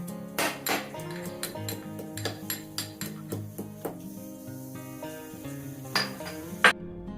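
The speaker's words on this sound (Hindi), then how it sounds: "तो यहाँ सबसे पहले अदरक कूट ले रही" Ginger pounded for a spice mix in a home kitchen, heard as a series of sharp, close knocks and metallic clinks, roughly a dozen strikes in an uneven rhythm with short pauses, without any talking.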